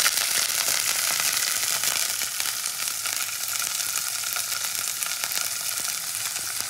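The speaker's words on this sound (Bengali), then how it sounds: "তেলটা গরম করে প্রথমে আমি একা একা সবজিগুলোকে ভেজে নেবো। প্রথমে আমি বিনস দেবো।" Green beans fry in hot oil, a loud, steady, dense sizzle that holds without pause from start to finish, close and alone with no voices.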